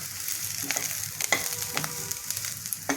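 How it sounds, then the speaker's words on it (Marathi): A steady dry sizzle of onion, sesame, poppy seeds, coconut, coriander seeds and whole spices roasting in a pan, broken by scraping stirs of a spatula at irregular intervals. "हे सगळं एकत्र करून परत भाजू आपण थोडंसं"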